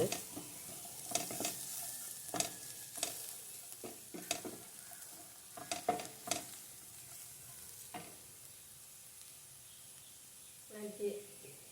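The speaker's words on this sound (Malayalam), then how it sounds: "ആവശ്യത്തിനുള്ള മഞ്ഞൾപ്പൊടി ഇളക്കി കൊടുക്കും" Turmeric powder stirred into masala frying in a pan, a soft steady sizzle under a series of spatula scrapes and stirring clatters coming in uneven bursts, with a brief voice near the end.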